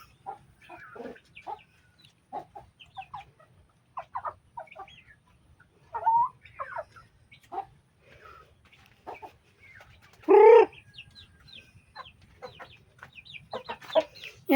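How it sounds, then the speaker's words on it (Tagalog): Free-ranging farm chickens clucking near a hut, a scatter of short clucks and calls at varied distances with one louder squawk partway through, over a quiet rural background. "Ito po yung mga manok namin"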